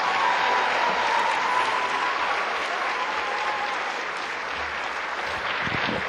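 Sustained, dense applause from an audience at a 2012 MLK Day celebration, clapping for the band; loud and even throughout, with no speech over it.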